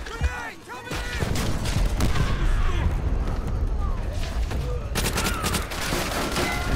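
Dense, loud gunfire fills a Call of Duty World at War campaign battle: rapid bursts and single shots crack continuously over explosions and chaotic combat noise, with a player's voice talking over the shooting.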